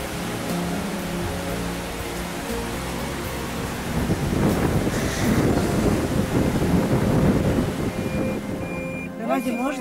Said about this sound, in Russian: Какая полноводная река.